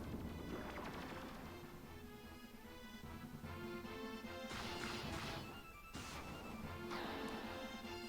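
Fire spell effects in the Final Fantasy II video game, a continuous roaring, crashing burst layered over game music, with loud rushing surges and a brief dip before flaring again.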